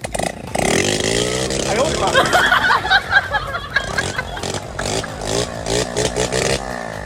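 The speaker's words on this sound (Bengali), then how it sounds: "সাউন্ড একটু বেশি হবে এর কারণ হলো আমার বাইকের কিন্তু পাইপ খোলা" A superbike with an open exhaust pipe revs and rumbles loudly at a village fair, its raw engine note rising then burbling while people talk nearby.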